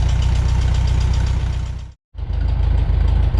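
A 1973 Volkswagen Beetle engine with distributor trouble idles a little low, loudly and unevenly with a rapid, knocking pulse, briefly cutting out before chugging back to the same rough rhythm.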